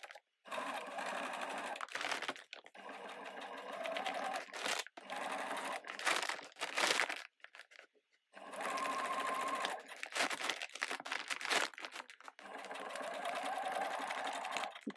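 A sewing machine stitches down a folded-over top hem on an upcycled seed sack shopping bag with a long stitch, running in several steady bursts separated by short pauses, close and clear with no talking.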